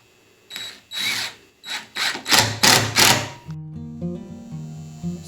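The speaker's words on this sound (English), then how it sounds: "I'm going to go ahead and put some screws into it" Power drill driving screws into glued bookshelf boards, a series of about six loud whirring bursts that rise and stop in quick succession, followed by a steadier, quieter mechanical hum.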